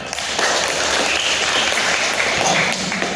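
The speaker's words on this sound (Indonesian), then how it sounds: "tepuk tangan jawabannya" A classroom of students clapping together after a group's history answer, a brisk, dense patter that holds steady and fairly loud throughout.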